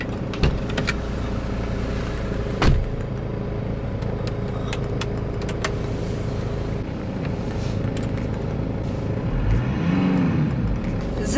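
A car driving with a steady low engine drone and road rumble throughout, a brief thump near the start and a rising, sweeping engine tone toward the end.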